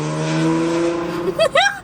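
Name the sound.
Honda Civic with exhaust cut off driving by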